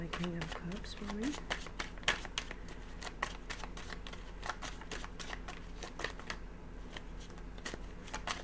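Tarot cards are shuffled close up in a continuous run of crisp riffling snaps and flutters, with a brief voice at the start.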